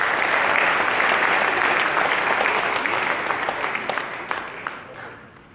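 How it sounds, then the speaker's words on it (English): Guests at a varsity and JV football team banquet applaud a player, giving a loud burst of many hands clapping that thins out into scattered individual claps as it dies away. "give Billy a round of applause"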